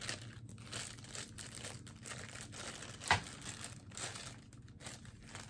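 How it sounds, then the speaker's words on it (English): Plastic packaging around MAC Cosmetics 84 Goddess false eyelashes crinkled and rustled while being unwrapped, quiet irregular crackles with one sharper snap near the middle, close and soft, no talk. "Let's take it out of the plastic."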